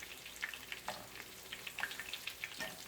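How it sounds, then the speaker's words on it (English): Breaded southern fried pickles sizzle in hot oil, a soft steady hiss dotted with small pops and crackles, fairly quiet and alone. "I'm going to fry all these up and then plate them"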